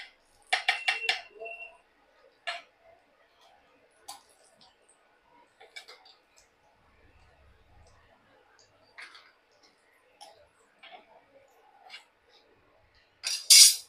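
Fried bok flower fritters are set one by one into a bowl, giving quiet, scattered clinks and taps of utensil on dish, with a sharper clatter near the start and again at the end.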